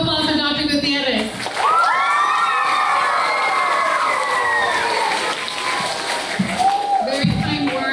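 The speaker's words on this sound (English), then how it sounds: "Round of applause for Dr. Gutierrez." At an elementary school ceremony honoring a national distinguished school, the audience breaks into loud cheering, applause and children's shouts with whoops, swelling after a spoken line and fading near the end.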